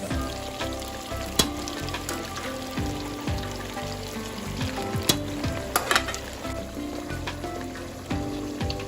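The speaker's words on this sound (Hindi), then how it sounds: "ये अच्छी तरह से मैंने पालक को इसमें शामिल करके तो ये भून लिया।" Spinach and mutton for palak gosht fry in a hot pan, a steady crackling sizzle broken by stirring scrapes and occasional sharp pops.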